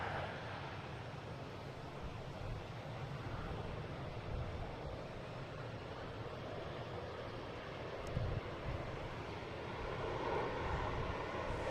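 An Airbus A340 airliner at Boston Logan airport gives a faint, distant, steady broadband engine rumble that swells slightly toward the end, with no talk.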